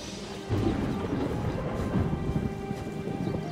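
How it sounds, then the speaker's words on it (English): Steady rain patters throughout while a low rumble of thunder rolls in and swells, with no voices. "It's raining. Find shelter."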